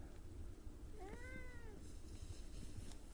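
A cat gives a single rising-and-falling meow lasting about half a second, soft and fairly close, over a quiet background hum.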